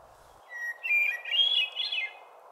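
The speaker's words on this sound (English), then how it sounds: "It is believed that it's the female birds who shape the songs of male hermit thrushes over time" A hermit thrush sings a single clear, flute-like phrase of rising and falling whistled notes lasting about a second and a half, close and distinct over a soft steady background hiss.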